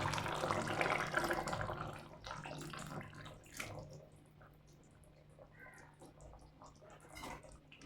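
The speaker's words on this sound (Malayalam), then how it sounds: "ഓഫ് ചെയ്തിട്ട് ഇട്ട് വെച്ചിരിക്കുന്ന തേങ്ങാപ്പാലുണ്ടല്ലോ അത് ഒഴിച്ചു കൊടുക്കാം." Coconut milk pours into a simmering pearl spot fish curry in a kitchen. A soft, continuous liquid splash fades after the first couple of seconds and leaves faint bubbling and quiet kitchen noise.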